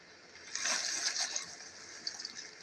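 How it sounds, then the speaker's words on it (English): A pot of water on the boil for macaroni gives a soft bubbling, gushing wash that swells after a quiet start, with small pops and splashes near the end. "Bring that to a boil and throw in some macaroni"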